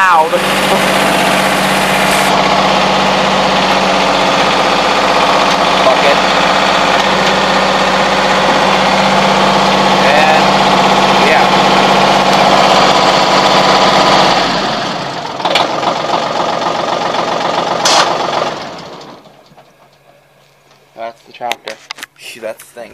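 A loud John Deere tractor engine idles in neutral up close with a rough, knocking rumble, then cuts off abruptly, leaving quiet with a few voices speaking.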